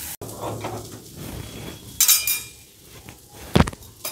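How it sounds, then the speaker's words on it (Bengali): A kadai used for frying prawns is lifted off a stove, giving two brief, close metallic clanks against a faint, quiet kitchen background with no talking. "কড়াইটা আমি সরিয়ে নেব।"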